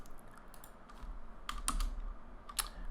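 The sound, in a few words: typing code on a computer keyboard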